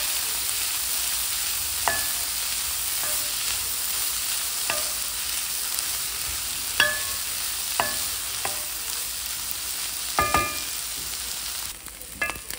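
Butter sizzles steadily under corn kernels frying in a pan, while a spatula scrapes and taps the pan in irregular strokes, some sharp clicks standing out above the constant hiss.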